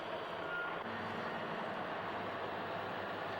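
A dump truck backs up on a construction site, its reversing alarm beeping steadily over a constant loud engine rumble and outdoor noise, with no talking.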